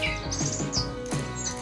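Electronic toy singing bird chirping continuously, with bright warbling trills and tweets repeating in quick bursts, close and fairly loud with no voices.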